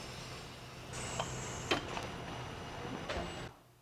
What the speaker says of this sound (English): This machine is a vacuum to remove debris from the magnetic gap.